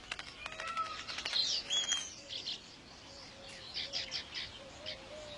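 Weaver birds chirp and call while building their woven nest, a cluster of bright tweets and short whistles, with fainter calls repeating in the background.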